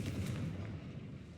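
A Confringo spell blast in Hogwarts Legacy, a booming fiery burst with a heavy low rumble that rolls on for over a second before tapering, with no voices over it.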